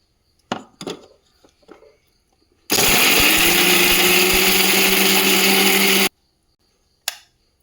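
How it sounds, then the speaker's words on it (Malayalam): A mixer grinder whirs loudly and steadily for about three seconds while grinding chutney, preceded by clatter of the jar being set in place and followed by a brief knock. "തണുത്തപ്പം നമുക്കിത് മിക്സിയിലോട്ടിട്ട് അരച്ചുകൊണ്ട് വരാം."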